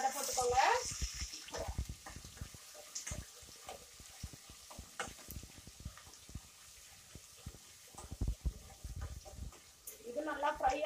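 Chicken liver frying with crushed ginger, garlic and green chilli, with a faint, quiet sizzle and scattered stirring clicks. Brief voices are heard at the start and end.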